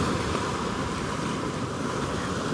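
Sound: sea waves on the shore

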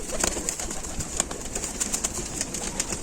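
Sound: Ukrainian high-flying pigeon

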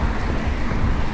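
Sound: heavy rain

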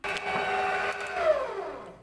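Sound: electric mixer mixing milk pudding

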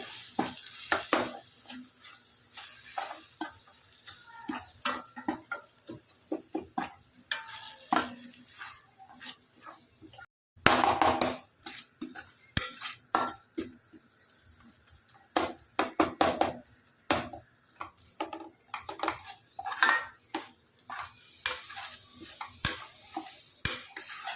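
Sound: stirring mutton masala with tomato in a pan

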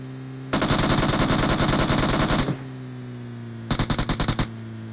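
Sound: gunfire in PUBG Mobile video game

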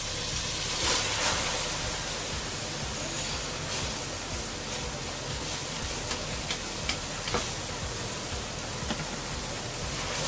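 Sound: washed rice being stirred and fried with spices in a pan

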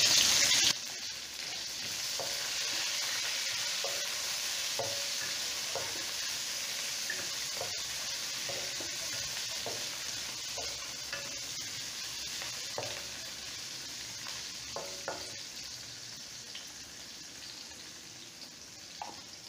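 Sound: onion and chillies frying in a pan

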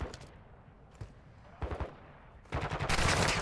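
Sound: gunfire from bots in Call of Duty DMZ video game

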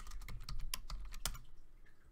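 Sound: typing on a computer keyboard

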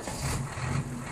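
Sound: crane engine running

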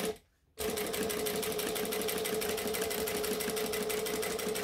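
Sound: sewing machine stitching fabric

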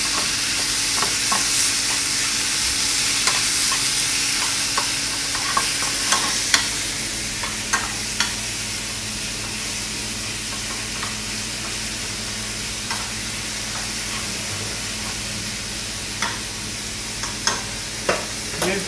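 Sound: beef frying in oil for Peruvian empanada filling

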